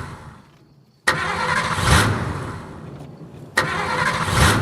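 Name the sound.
car engine sputtering, breaking down, in a horror story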